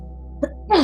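A single sharp sneeze from a person, quick and close, bursting out after a faint intake of breath over a quiet steady hum.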